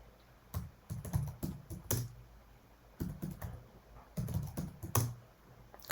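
Fingers type a passphrase on a computer keyboard in bursts of close, rapid key clicks separated by short pauses, with no speech.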